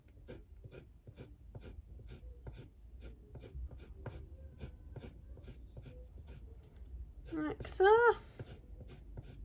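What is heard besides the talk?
pencil colouring over hair on paper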